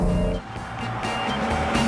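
A vintage MGC GT Sebring with a six-cylinder engine and Weber carburetor, heard as a loud, close engine roar that dips briefly then rises again into a steady rev.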